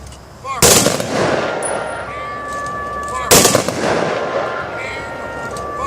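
Two sharp rifle volleys from a firing detail at a 2017 Memorial Day service in Macon County, North Carolina, each a loud crack with a long outdoor echo trailing off, spaced about three seconds apart.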